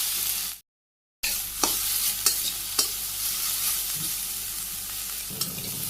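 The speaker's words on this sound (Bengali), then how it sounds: "ভাজি করে নামিয়ে নিলেই হইব।" Red amaranth greens, already salted, fry and get stirred in a pan in a Bangladeshi village kitchen: a steady close sizzle with a few sharp spatula scrapes and a brief silent dropout near the start.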